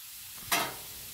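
Chicken fried rice ingredients hit a hot outdoor flat top grill in a single sudden sizzle burst that quickly fades to a low frying hiss.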